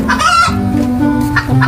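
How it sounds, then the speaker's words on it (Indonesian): A chicken on a farm clucks in short, close, loud calls, a brief burst with no talk. "Ayam petok-petok. Tuh ayam."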